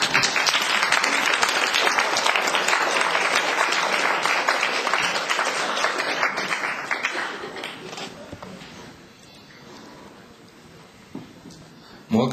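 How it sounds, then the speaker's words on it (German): Sustained audience applause at a congress, loud and dense clapping from a large crowd that gradually thins and fades away, followed by a short burst of sound at the very end. "ihr könnt auch ruhig klatschen gehen"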